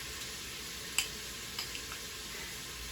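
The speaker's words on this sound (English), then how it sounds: "Garlic is next, and this one's 4 cloves of 4 cloves of garlic minced" Minced garlic, four cloves, sizzles faintly in an Instant Pot while making Mediterranean lentil soup: a steady, quiet hiss with a couple of small ticks and no talking.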